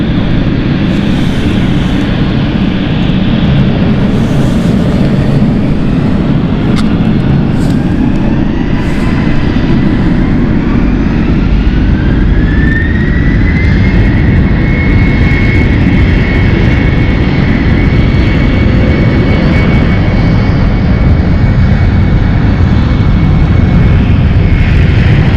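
A KLM jet airliner takes off from runway 09 at London City airport. A loud, steady engine roar rises as thrust builds, with a climbing whine layered on top that holds high and continuous throughout.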